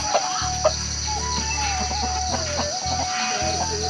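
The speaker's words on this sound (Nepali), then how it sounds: "यतिर चाहिँ हाम्रो कुखुरा छोड्ने बेला भइसकिँदैन, छोडिसकेको छ माय फ्रेन्ड्स" Chickens and a rooster on a Nepali village farm, freed from their coop and pecking at feed, cluck steadily up close with a low constant hum beneath.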